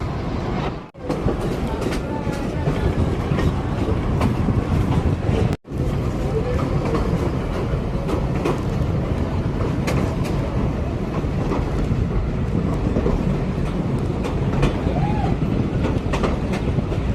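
The Bhakhra Railway train near Nangal runs along its track with a continuous loud rumble and rhythmic clickety-clack of wheels on rail joints, heard close from on board, with a couple of brief dropouts.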